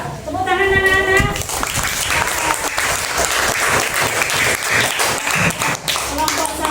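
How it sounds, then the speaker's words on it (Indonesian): Children in a classroom clap together, loud rapid applause sustained across the whole stretch, with a brief voice at the start and near the end. "sekarang coba tepuk tangan anak-anak."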